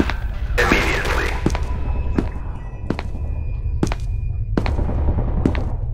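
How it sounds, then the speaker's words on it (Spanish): Gunshots in the SCP Containment Breach video game: a run of sharp, irregularly spaced cracks over a steady low rumble and hiss. "Se escuchan disparos,"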